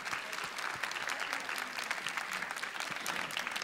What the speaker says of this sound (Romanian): Încă o dată aplauze pentru Coreea, vă rugăm frumos.